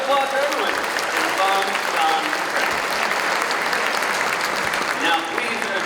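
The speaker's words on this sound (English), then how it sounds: "round of applause for everyone" A large gala audience at the 2024 PEN Literary Gala applauds the honorees, sustained loud clapping from a big crowd, with a voice speaking over it at the start and near the end.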